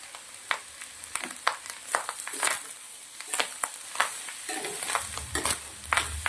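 Chole kanda fried rice with green coriander and lemon juice being stirred in a pan on a gas stove, repeated scraping strokes of a spoon over a steady sizzle, close and fairly loud, with no talk.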